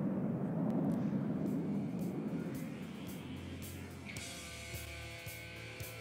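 An F-14 Tomcat prototype fighter jet flies past with a loud, broad roaring rumble that swells at first, then thins into a steadier whining drone as it moves off.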